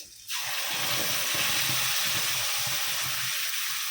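Ground masala paste hitting hot oil with garlic in a pan for a Kokani-style fish curry, bursting into a loud, steady sizzle after a brief quiet start and continuing strongly with soft stirring scrapes underneath.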